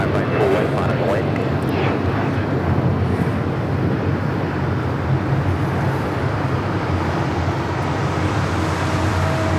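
A Delta airliner takes off from runway 25 right at LAX, a loud, steady broadband engine roar that holds without a break, close and constant throughout.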